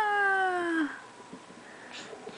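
A cat meows once with a clear, drawn-out, falling call up close, then someone speaks softly to it in a quiet home.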